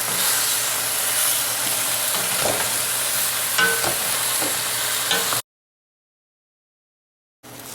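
Beef stew meat dropped back into a hot pot sizzles and hisses loudly with stirring scrapes, then cuts to silence before the frying resumes briefly.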